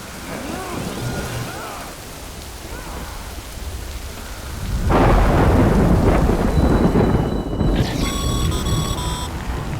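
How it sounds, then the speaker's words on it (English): Rain and rumbling thunder in the video game Death Stranding: steady rainfall at first, then a heavy thunder roll swells loudly midway and lingers, with electronic tones chiming near the end. "Good thing it was raining."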